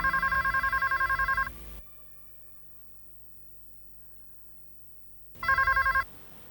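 A telephone bell ringing in an indoor TV drama scene: a rapid trilling ring burst lasting nearly two seconds, a few seconds of quiet, then a second burst of the same ring, loud and close with no talk.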